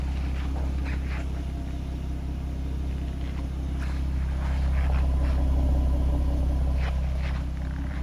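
A 2013 Ford Mustang V6 Premium convertible idles with a steady, mild low rumble that holds even and close throughout, with no talking over it.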